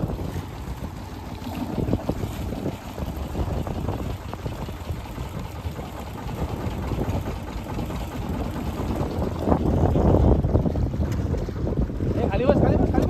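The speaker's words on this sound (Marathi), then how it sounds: "थांब बोट अजून लागली नाही किनाऱ्याला" Small boat nearing the shore along the Konkan coast, with a low rumbling engine and water wash under heavy wind buffeting, steady throughout and swelling toward the end.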